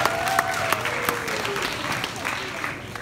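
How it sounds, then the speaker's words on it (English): Applause from a crowd at a fourth grade graduation ceremony, a steady broadband clatter of clapping under a speaking voice, staying fairly even throughout. "Round of applause for Mr."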